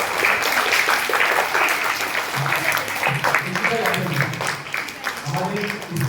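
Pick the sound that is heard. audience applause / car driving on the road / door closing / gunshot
audience applause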